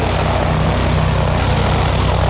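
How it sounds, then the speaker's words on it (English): A propeller trainer aircraft performing aerobatics at an air display in Little Gransden drones loudly and steadily overhead, a constant buzzing engine note with no voices. "He really is throwing this around in a remarkable way for an aircraft that is a trainer and therefore inherently stable."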